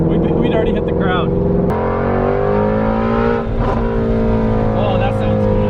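A Ford Mustang GT350 drives hard with a loud, sustained engine note that shifts pitch, up close, and a person's voice is heard over it.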